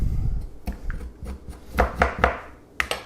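A knife chops ginger root into smaller chunks on a cutting board, sounding as a quick irregular series of close, thudding cuts with no talking.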